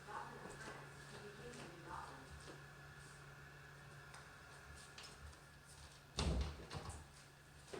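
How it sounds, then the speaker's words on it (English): An indoor room door is pushed shut, landing as a single dull thud with a short rattle near the end, otherwise quiet with a faint steady hum in the room. "Let me close this door."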